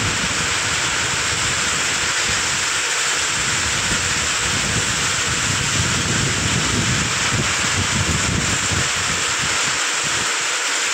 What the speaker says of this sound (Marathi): आता पाऊस थोडा कमी आला